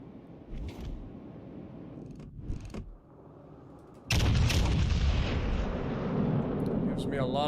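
Warship guns fire in World of Warships Legends: scattered thumps and mechanical clatter lead to a sudden loud, sustained roar of gunfire that slowly fades.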